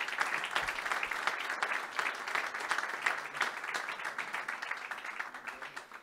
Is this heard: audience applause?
yes